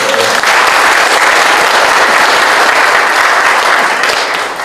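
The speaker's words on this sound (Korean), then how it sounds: "감사합니다. 박수 쳐주십시오." Delegates at a political party founding convention applaud in a loud, dense, continuous burst that fills the hall and fades slightly at the close.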